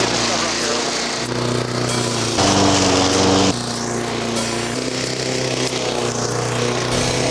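A lawn mower engine drones loudly and continuously near the roadside grass, its pitch shifting as it works under load.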